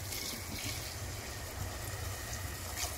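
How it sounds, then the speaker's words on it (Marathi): Hot water poured into a pot of cooking matki misal, a steady close liquid pour with a low rumble running throughout, no talk. "आपण ह्यामध्ये आवश्यकतेनुसार पाणी घालून घेऊ"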